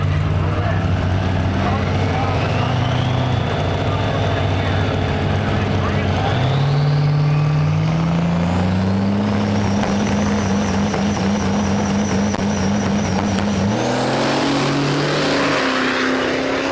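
A Duramax diesel-powered Chevelle drag car sits loud and close at the starting line, its engine droning and then rising through several revving climbs and shifts, with an announcer talking over it.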